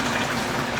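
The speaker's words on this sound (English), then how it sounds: "we got a water pump stirring, and it is turned on, connected to a quick disconnect valve" A water pump fills a tote through a quick-disconnect valve in a home hydroponic system, a steady close rush of flowing water with no break or talk.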